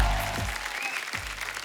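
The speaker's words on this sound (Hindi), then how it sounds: "आप सबकी जोरदार तालियों के बीच" A studio audience claps loudly and continuously on a comedy show as guests are welcomed, dense applause with a little music-like tone under it.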